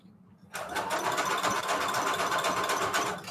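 A sewing machine stitching lace and fabric trim starts up after a brief quiet moment and runs in a fast, steady stitching whir, close and fairly loud.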